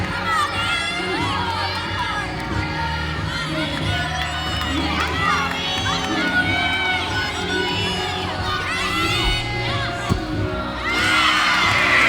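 Large arena crowd at a college gymnastics meet in Memorial Coliseum, Kentucky, a constant loud murmur of many voices with shouts and cheers, swelling near the end, with commentary voices over it.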